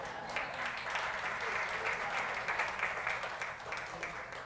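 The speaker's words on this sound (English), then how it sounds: "So a round of applause for Gregory for pulling all this all together." An audience claps for Gregory in a steady, moderately loud round of applause that continues throughout, with faint voices mixed in.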